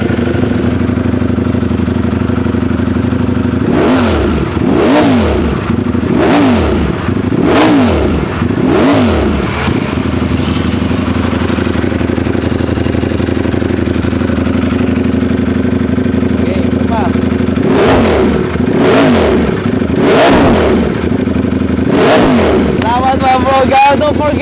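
A Ducati Streetfighter V4S with an upgraded muffler idles loudly, then revs in two sets of sharp throttle blips, four in the first and three in the second, with voices talking over it.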